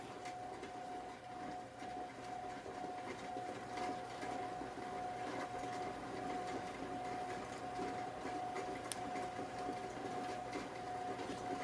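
Arizona agate being ground dry on an 80 grit wheel, a steady whirring drone with a constant hum running unbroken, moderately faint and with no talking.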